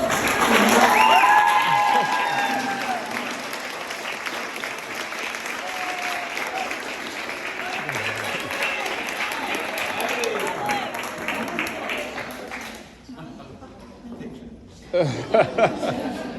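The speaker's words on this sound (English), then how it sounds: "So let's all clap it up for Emmalee Martin." An audience at an awards banquet applauds for an honoree, a loud, dense wash of clapping with some cheering and chuckles. It thins out toward the end, when a few sharp louder claps stand out.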